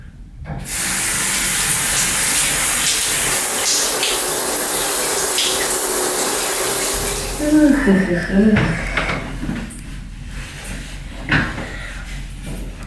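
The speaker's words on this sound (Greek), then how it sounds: "το ντουζ." Shower water runs steadily in a bathroom, a broad continuous hiss that stops partway through, followed by clattering handling noises and a voice talking.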